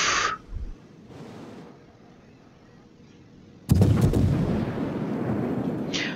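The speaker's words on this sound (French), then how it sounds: "Il y a des obus en approche là" Incoming naval shells exploding around a ship in the naval warfare game World of Warships, a quiet stretch that breaks into a heavy close blast with a long rumbling tail.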